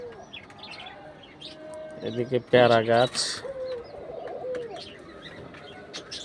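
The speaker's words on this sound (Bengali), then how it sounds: "অনেক ধরনের ঘুঘু আছে, অনেক কালারের, বিভিন্ন রঙের ঘুঘু পাখি আছে এখানে" Doves give soft, low cooing calls in the background of a garden aviary, with a few chirps mixed in, while someone speaks over them in the middle.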